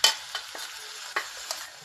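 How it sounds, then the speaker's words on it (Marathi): Masala for a vegetable dish being sautéed and stirred in a pan: a few sharp spoon scrapes at irregular intervals over a faint, low sizzle, close and fairly quiet. "चांगलं परतून घ्यायचा हा मसाला"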